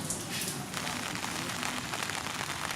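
Steady rain at the former imperial palace in Hue, Vietnam, a dense continuous hiss of drops striking roofs and paving, close and even throughout with no voices.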